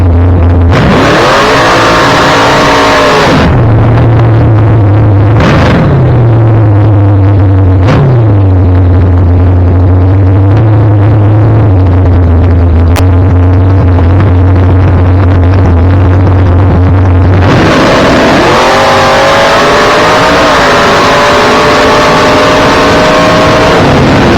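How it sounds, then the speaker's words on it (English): Drag race car engine at Coastal Plains Dragway warming up: loud close blips of revving at start, a steady rough idle through the middle, then another strong rev climbing near the end. "with the tire swap done, it was time to warm up the car"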